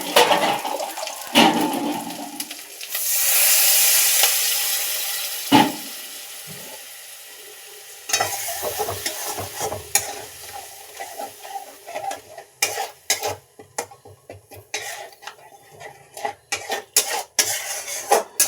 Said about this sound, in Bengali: সবগুলো একসাথে দিয়ে একটু জল দিয়ে নাড়াচাড়া করতে হবে